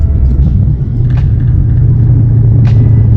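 Car running a BAMA 93 race tune, heard from inside during a downshift into fifth gear: a loud, steady low engine and road rumble with a few faint higher clicks, no speech.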